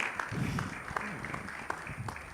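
Audience at a youth pitching event applauding a presenter: steady, moderately distant clapping with scattered sharper claps, mixed with murmuring voices throughout.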